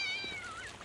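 A cat meows in the video game Postal 2, a single clear, close, high meow that rises and then falls in pitch, standing alone without talk.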